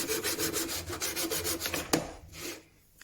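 Secateurs are drawn across a 200 grit sharpening stone in a quick series of rhythmic rasping strokes. One sharp scrape comes near the end, then the sound trails off into quiet.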